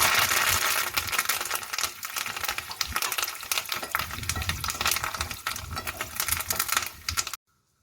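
Dried red chillies and curry leaves crackle and sizzle in hot tempering oil, loud, busy and continuous popping for several seconds before cutting off abruptly.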